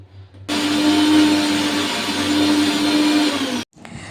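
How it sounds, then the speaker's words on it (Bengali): Electric grinder blending ginger and garlic into paste in a home kitchen, one steady loud whirring run lasting about three seconds that starts and cuts off abruptly, with no voices. "যেহেতু আদা রসুন বাটা ছিল না তাই সেগুলোও বাটতে হলো"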